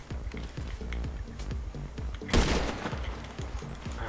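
Rapid automatic gunfire from a powerful weapon in GTA 5 Online crackles in a dense continuous stream, with a louder burst or explosive blast midway, close and harsh throughout.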